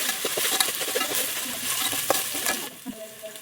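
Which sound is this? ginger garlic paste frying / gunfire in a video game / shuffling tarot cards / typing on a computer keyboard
ginger garlic paste frying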